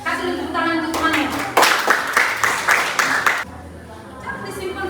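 A classroom of students breaks into a short burst of brisk applause for a classmate, about two seconds of dense clapping, bracketed by a teacher talking before and after.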